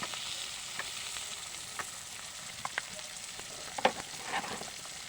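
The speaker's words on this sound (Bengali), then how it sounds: "তো এই কাঁচামরিচ পেঁয়াজটা একটু কিছুক্ষণ ভেজে নেব সুন্দর করে" Chopped green chilies and onion fry in oil with cinnamon and bay leaf, a close, steady sizzle broken by occasional stirring clicks and scrapes.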